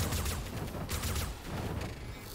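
Gunshots in the game Dolmen come as a dense, steady crackle of rapid shots at moderate loudness, with no talking over them.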